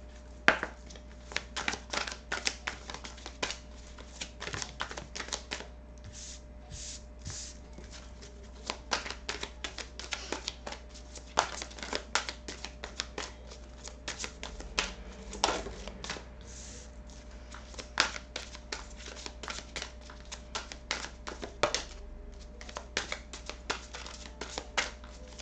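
Fairy oracle cards shuffled by hand, a long run of quick crisp clicking riffles and slides, close up and steady, with no talking over them.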